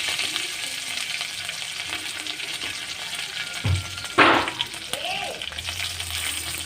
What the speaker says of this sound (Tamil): கடுகு போட்டாச்சு. கருவேப்பிலை போட்டாச்சு.